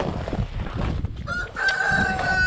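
A rooster on a farm crows once in a long, clear call, close and loud, with a faint bit of background noise from the yard in sub-zero winter weather.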